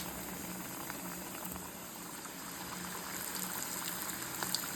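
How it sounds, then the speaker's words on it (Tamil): Chicken samosas deep-fry in hot oil, making a steady, close, bubbling hiss that holds at an even level throughout, with a few louder pops near the end and no talking. "இப்போ எண்ணெயை காய வச்சு எண்ணெயில் ஒவ்வொரு சம்சாவாக போட்டு எடுத்துட வேண்டியதான்"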